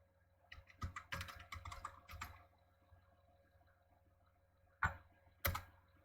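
A command is typed quietly on a computer keyboard: a brief flurry of soft key clicks, a pause, then two isolated, sharper keystrokes.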